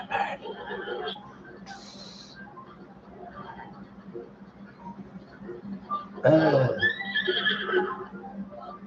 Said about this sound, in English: Wild horse, a little bit too wild